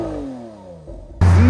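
A 6.5-litre naturally aspirated V12 car engine winds down, then roars sharply up into a loud, close rev.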